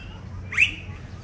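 A single short bird chirp rings out at the San Diego Zoo, a quick bright upward call over a low outdoor rumble, moderately near.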